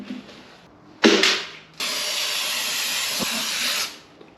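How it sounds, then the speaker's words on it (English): A plastic scraper rasps old caked-on gasket material off a Honda B-series engine: one short rough stroke, then a longer sustained scraping pass, close up. "Got my plastic scraper, it's coming off pretty good."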